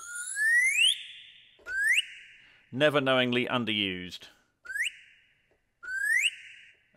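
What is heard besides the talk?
slide whistle from Project SAM Animator sample library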